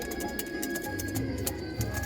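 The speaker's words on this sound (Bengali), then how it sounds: "দুটো পায়রা বারাসাতের এক ভাই আর পায়রা দুটো বারাসাতে যাচ্ছে" Two pigeons coo in low, rolling repeated notes close by, over a steady background hum with faint scattered clicks throughout.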